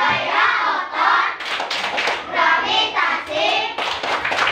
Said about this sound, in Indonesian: Kita tepuk gaya.